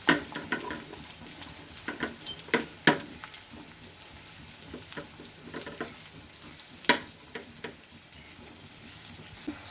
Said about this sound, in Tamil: வரமிளகாய் போட்டதுக்கப்புறம் அது கூட கட் பண்ணி வச்சுருக்கிற வெங்காயத்தை சேர்த்துக்கிடுவோம்.